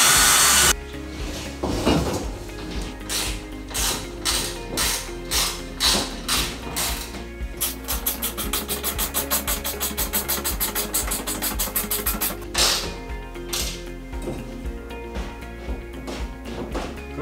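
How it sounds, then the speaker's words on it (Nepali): A power drill bores into wood ahead of screwing up a wall mount for a TV, giving a repeated, rhythmic whirring grind in short bursts, with steady continuous drilling in the middle stretch, close and fairly loud with no talking. "सबैभन्दा पहिले यहाँनिर म ड्रिल गर्छु स्क्रु लगाउनुभन्दा अगाडि"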